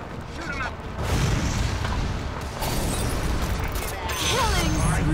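Rapid rifle shots from the Sniper hero in a Dota 2 match ring out amid dense game effects and booming impacts, with a voice talking over the steady, loud barrage.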